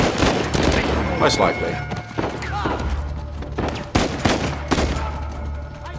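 Gunfire in the video game Uncharted 4, with bursts of shots and thuds spread through the scene and someone talking over the action.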